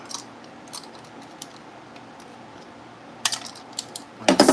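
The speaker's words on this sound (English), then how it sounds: "have a little zip tie to cut" A small zip tie is snipped during careful unpacking of precision CNC machine parts: scattered faint clicks and rustles, then a few sharp, close snaps near the end, with no talk.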